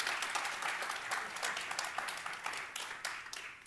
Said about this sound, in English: this is the part where you applaud